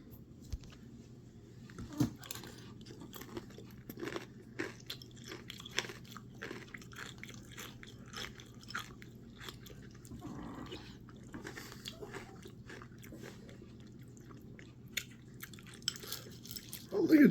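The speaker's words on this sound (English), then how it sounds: "And let's try some of this cereal." Close, quiet crunching and chewing of Special K triple berry cereal, soft irregular bites over a low background hum, with no talking.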